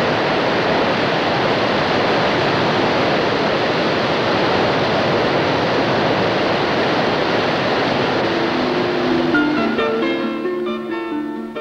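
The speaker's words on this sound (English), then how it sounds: "Water flows down the Towy Valley at a controlled rate." Water released from the Llyn Brianne reservoir rushes down the Towy Valley in a loud, continuous roar; soft music rises beneath it toward the end.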